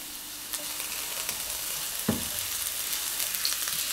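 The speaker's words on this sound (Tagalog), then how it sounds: "Fried natin ang garlic." Garlic fries in hot oil, giving a soft, continuous sizzle with a few brief crackles and light stirring clicks, fairly faint and without any voices.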